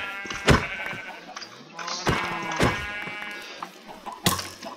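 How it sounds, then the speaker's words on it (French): Sheep bleating in a video game, several distinct quavering bleats spaced across a few seconds, mixed with game thumps and effects. "Des moutons. Parfait."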